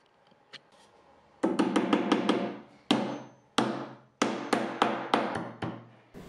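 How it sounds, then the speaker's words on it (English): Furniture glides are hammered into a solid wooden desk: a dozen or so sharp, loud strikes, close by, in uneven bursts after a faint tap or two. "and then hammered it back on."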